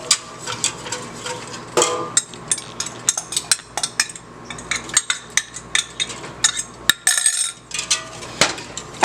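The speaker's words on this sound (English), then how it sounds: "And you're going to stir briskly, and you're going to give it a good stir." Cornmeal porridge being stirred briskly in a pot, Bajan style, with a spoon scraping and clinking against the sides in a steady, busy rhythm, close and fairly loud throughout.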